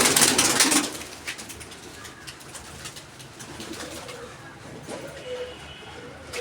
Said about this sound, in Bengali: আমার সব পায়রাই ছাড়া হয়ে গেছে।